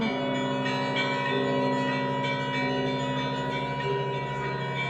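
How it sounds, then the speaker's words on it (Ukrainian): Church bells at the Pochaiv Lavra in Ukraine ring continuously during wartime, their overlapping tones sustained and steady at moderate loudness, with an air-raid siren droning underneath. "Unusual combination of sirens and bells."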